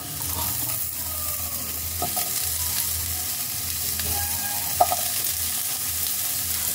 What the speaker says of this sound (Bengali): আলুটা দিয়ে তেলের মধ্যে একটু নাড়াচাড়া করে নিচ্ছি।